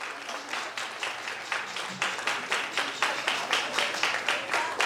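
A church crowd at a children's prize distribution claps, with loud applause settling into a rhythmic, unison beat of hands, steady and close.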